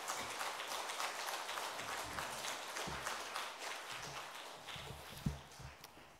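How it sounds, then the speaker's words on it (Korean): A church congregation at a Sunday afternoon service claps to welcome a guest pastor. The dense, even pattering of many hands sounds faint and distant and keeps going for several seconds. "오늘 귀한 우리 강사 목사님 나오실 때 큰 박수로 큰 은혜 받을 수 있도록 박수 부탁드리겠습니다"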